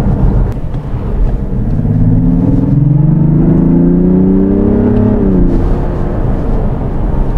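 A 2024 Mazda CX-60 Takumi diesel hybrid SUV accelerates in sport mode, its engine drone rising steadily in pitch through the gear as heard from inside the cabin, loud and continuous with no talk.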